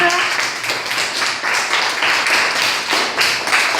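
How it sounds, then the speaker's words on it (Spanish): Audience applause, steady dense clapping from a crowd lasting several seconds, fairly loud and close with no voices over it. "¡Wow! Un aplauso."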